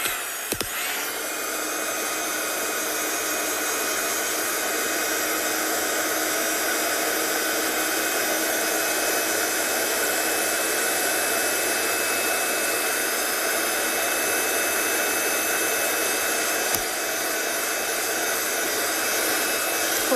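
A heat tool drying a craft card decorated with a moon and halo design, giving a steady, loud whooshing blow that holds unbroken from start to finish with no voices.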